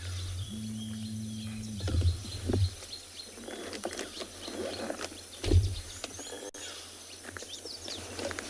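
Scattered birds chirp and call at a distance on a sunset safari over a low steady hum, with occasional short clicks and bursts.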